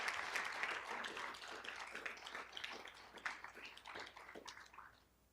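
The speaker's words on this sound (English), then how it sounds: "I think that deserves a round of applause for us" A room of attendees at a university outreach and engagement awards ceremony claps in a moderate round of applause, fairly distant, thinning out and fading toward the end.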